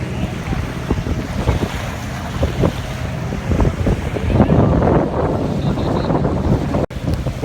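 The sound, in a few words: boat travelling on a river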